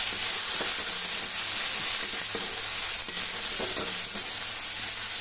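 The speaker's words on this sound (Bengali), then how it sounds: "অল্প একটু হলুদ গুঁড়ো দিয়ে আরও একবার ভালো করে কষে নেব।" Onion sizzles steadily with ginger-garlic paste and a pinch of turmeric, a continuous loud frying hiss broken by scattered scrapes and knocks of a spatula stirring the pan, with no voices.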